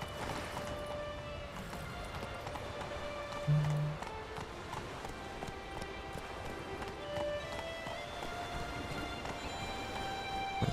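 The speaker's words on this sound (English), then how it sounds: "Let's take my horse right into the cave then" Galloping horse hooves in The Witcher 3, a steady running clip-clop under game music and ambience throughout, with no talk.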